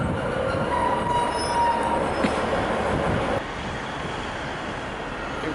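A Manchester Airport-bound train pulls into Manchester Piccadilly station, wheels squealing and rumbling steadily on the rails before the noise drops suddenly as it slows.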